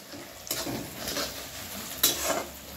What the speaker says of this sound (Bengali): প্রথমে পেঁয়াজটা 2 মিনিট ভেজে নিচ্ছি